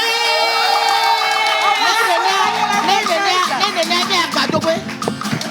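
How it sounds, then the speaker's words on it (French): A live audience at a public entertainment event erupts in loud cheering and shouting, with high voices, many of them children, screaming and calling out together in a sustained, noisy crowd roar. "Est-ce que le public peut faire du bruit pour notre maîtresse?"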